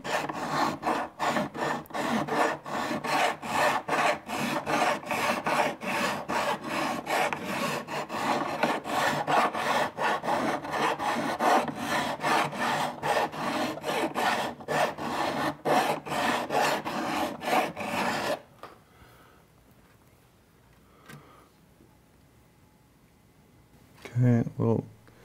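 Hand filing of guitar frets on an archtop, a close, rhythmic rasping of rapid back-and-forth strokes that runs steadily for most of the time, then stops into near quiet before a brief final scrape, with a voice speaking softly.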